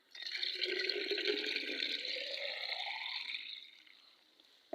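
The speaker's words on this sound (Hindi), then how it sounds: "अब इसके अंदर मज़ीद एक बार पानी ऐड कर देते हैं" Water poured into a container holding a copper and mercury mixture, a close, steady filling splash that slows and tapers off near the end, followed by a faint clink.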